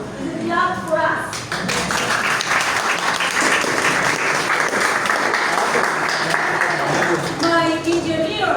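Applause from an audience at a Spanish-language literary talk on Edgar Allan Poe in San José, with a loud, dense, steady burst of clapping for about six seconds, framed by speech at the start and end.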